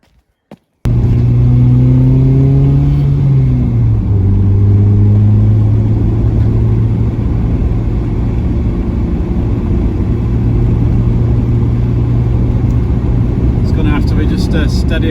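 A lowered Ford Mondeo Mk3 carrying a heavy load in the back cruises steadily, its engine a loud, constant low drone heard from inside the car after a brief quiet start.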